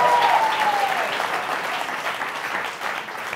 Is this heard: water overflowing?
no